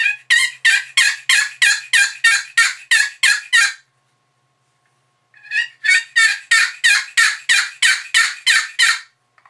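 Raspy turkey yelps scraped on a box call, a steady series of evenly spaced notes, then a short break and another run, loud and close.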